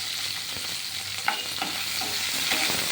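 Garlic and chopped onion fry in a pan with a constant close sizzle, broken by a few soft knocks and scrapes of stirring.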